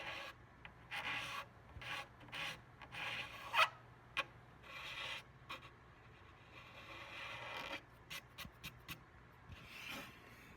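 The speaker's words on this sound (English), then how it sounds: "So I scraped all the extra stain off of the binding." A hand scraper rubs and rasps excess stain off the binding of a hollowbody guitar under construction, in short, quiet, uneven strokes separated by brief pauses, with no voices.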